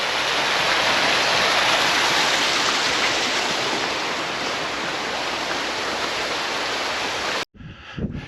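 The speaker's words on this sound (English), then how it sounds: "A river now, and a brook coming down there off" A river and a brook flowing down off the Great Ridge in the Peak District on a winter hike give a loud, steady rushing wash that cuts off abruptly near the end.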